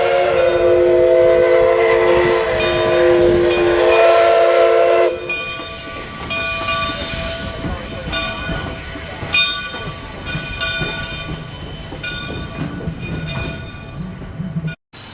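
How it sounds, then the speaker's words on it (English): A steam train pulls in close by on the Oregon coast, hissing steam over a low rumble, with a sharp change partway through as the loud hiss drops to clattering and steady mechanical noise. "Here comes the train we'll be taking here."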